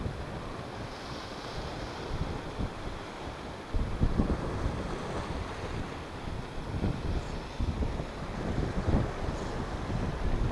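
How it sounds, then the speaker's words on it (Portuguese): Wind blowing over a rough sea at the shore during squid and cuttlefish fishing, a steady broadband roar with gusts and surf swelling louder midway, no talk. "Com este vento a levantar-se."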